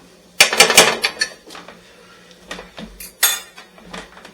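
Roasted carrots being turned in a pan, giving a cluster of close metallic scrapes and clinks early on, then a few scattered knocks and a final clatter against a quiet kitchen background.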